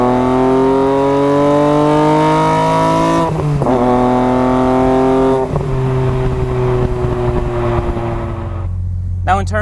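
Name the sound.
BMW M3 engine with Evolve carbon airbox at full throttle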